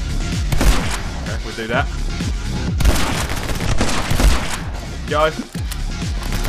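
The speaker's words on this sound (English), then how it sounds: "Let's go for the shotgun for a bit." Shotgun blasts and other gunfire in the side-scrolling action game My Friend Pedro, several heavy booming shots scattered unevenly over busy game sound, with someone talking over the action.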